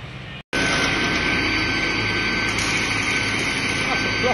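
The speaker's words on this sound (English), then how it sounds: "This is the saw we'll be cutting on. Very big motor. About 15 horsepower apparently." A big saw driven by a roughly 15 horsepower motor, used for cutting ash axe handles, starts up with a sudden loud roar and keeps running as a steady, heavy drone close by.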